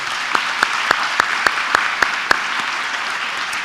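Applause at a school awards ceremony, a steady wash of clapping from the audience with a few sharp, evenly spaced claps standing out close by.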